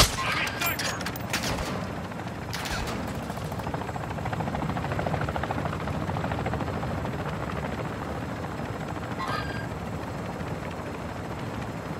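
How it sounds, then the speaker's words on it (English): Enemy attack helicopter in a multiplayer shooter game, its steady rotor drone filling the scene with sporadic gunfire bursts mixed in, continuous and fairly loud throughout. "Ultra One, the enemy attack helo is moving in your direction."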